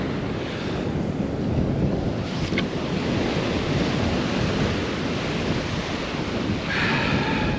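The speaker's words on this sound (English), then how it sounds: "that wind is going to be a nightmare today" Strong wind buffets the microphone on a Welsh seashore during a sea fishing festival, a constant loud rumble mixed with breaking surf and no voices.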